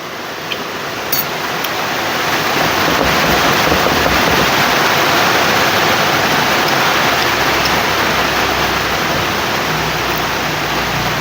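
Steady, heavy rain hisses continuously at an even loudness, with no voices and no breaks.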